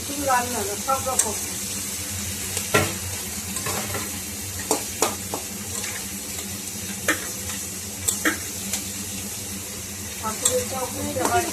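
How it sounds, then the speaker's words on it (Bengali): Crushed green chilli, ginger and garlic sautéing in oil, a steady close sizzle broken by intermittent clicks and scrapes of a spoon stirring the pan, with brief speech in the background. "এবার এটাকে আমরা ভালো করে কষাবো যতক্ষণ না এখান থেকে তেল চলে আসবে"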